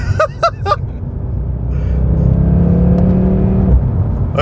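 Mercedes C63 AMG Black Series spinning its rear wheels in first gear with traction control on, a loud, steady engine roar building after a few short bursts, close and continuous.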